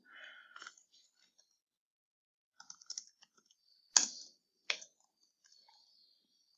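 Several short clusters of key clicks from typing on a computer keyboard while entering a foreign key name in a database relational diagram, with sparse taps and two sharper strikes near the end, close by and otherwise quiet.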